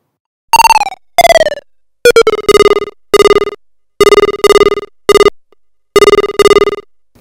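Square-wave tone from a modular synth, passed through a filter and shaped by a complex VCA decay envelope, sounds as a series of loud, separate pitched notes. Each note has a sharp attack and a fast decay, with some notes stepping lower in pitch.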